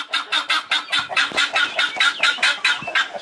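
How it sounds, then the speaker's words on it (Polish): Peacock calls from a farm bird flock, a rapid run of about eleven loud, harsh, evenly spaced squawks, close and unaccompanied by talk. "Są to dźwięki, które wydaje paw."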